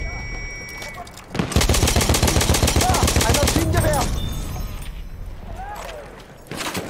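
Rapid, sustained MG 08 machine gun fire in Battlefield 1, loud and continuous for several seconds with a steady mechanical rattle, easing off toward the end before a fresh burst; a voice talks over part of it.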